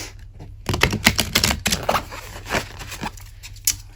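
Tarot cards being cut and shuffled by hand, a quick run of crisp papery riffles and taps close up, starting after a short quiet pause and thinning out toward the end.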